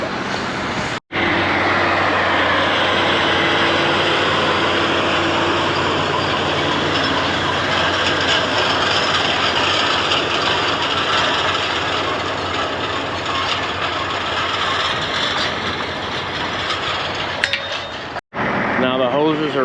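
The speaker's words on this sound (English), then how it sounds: "Here he comes with that chisel plow." A tractor pulling a chisel plow drives closer, its engine a steady, loud diesel drone with a low rumble that holds at near-constant strength for most of the clip before cutting off sharply near the end.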